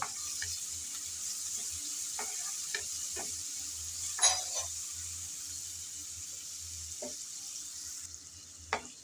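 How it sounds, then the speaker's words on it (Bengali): Chopped onions fry in hot oil left over from frying prawns, a constant close sizzle broken by several sharp stirring scrapes and clinks of a spatula, with no voices. "সেই গরম তেলে দিয়ে দিলাম পেঁয়াজ কুচি"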